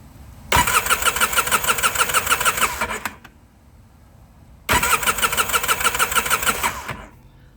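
A Polaris Sportsman 700 ATV engine, left sitting for two years, cranks over in two long bursts of about two and a half seconds each, loud and close, with a short quiet gap between them and no sign of it firing.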